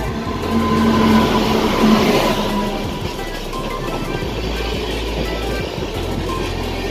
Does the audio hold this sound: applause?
no